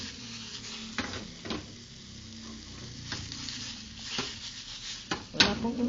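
Jackfruit seeds being stirred in a dry pan without oil, giving a soft continuous sizzle and scraping with intermittent spoon knocks and scrapes against the pan.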